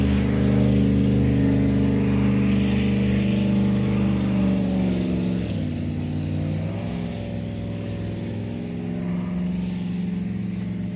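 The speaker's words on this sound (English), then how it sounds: "Probably hear that speedboat in the background." A speedboat's motor drones steadily in the background at a public boat ramp where many boats are being launched. The hum holds fairly loud and dips briefly before returning.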